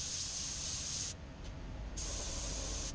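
A touch-up spray gun sprays paint in a shop with a fan pulling overspray away, giving a loud, steady, close hiss that cuts off briefly mid-way with a quick short burst before resuming, over a low fan rumble.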